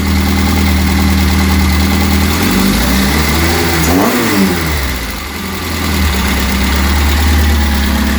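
The engine of a Reliant Supervan 3 under restoration idles loudly and close, a steady low drone that briefly revs up and sweeps down midway before settling back into an even idle.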